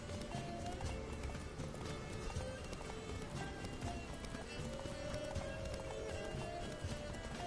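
A horse gallops in The Witcher 3, rapid rhythmic hoofbeats pounding steadily and close, with a brief neigh and faint game sounds underneath.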